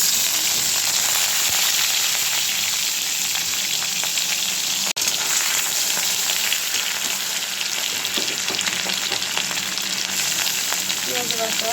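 Dried fish fries on a stove, a steady, dense crackling sizzle holding close and loud, with occasional faint stirring and one brief sharp click partway through.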